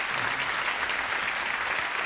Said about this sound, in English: Clapping. Clapping.